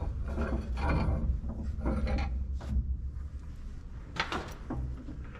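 A wrench ratchets and metal clanks softly as bolts are tightened on the rotor of a Gleaner R52 combine, in short uneven bursts with a few sharper knocks.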